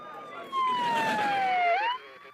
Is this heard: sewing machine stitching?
no